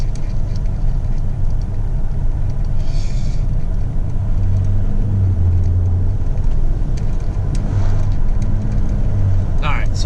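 A 2020 Ford Raptor fitted with AMS boost tubes accelerates hard on a straightaway, a steady loud low engine drone filling the cabin throughout, with a voice speaking briefly over it.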